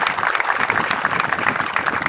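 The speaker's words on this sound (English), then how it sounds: "give yourself a round of applause" Indoor audience at a military graduation completion ceremony breaks into applause for the parents, a dense steady clapping from a crowd with faint voices mixed in.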